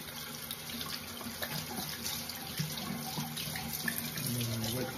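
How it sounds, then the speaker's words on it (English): Cold water runs steadily from a tap into a sink at moderate volume, a continuous splashing stream for the whole stretch with faint handling sounds beneath. "put on some cold water."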